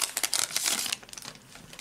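Brief close-up crinkling and peeling of tape off a Pokémon card pack, a quick burst of crackly rustles that fades out.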